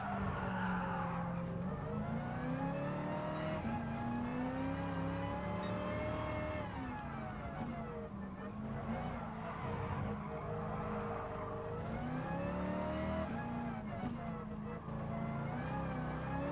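Race car engine in the video game Gran Turismo Sport, a steady droning note that rises and falls through gear changes, with tire sliding through turns, running continuously under a person talking.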